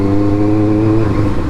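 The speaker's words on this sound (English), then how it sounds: "currently this runs on an Akrapovic replica exhaust" A Benelli TNT 600i motorcycle fitted with an Akrapovic replica exhaust runs close by with a loud, steady engine note that rises slightly, with no talking.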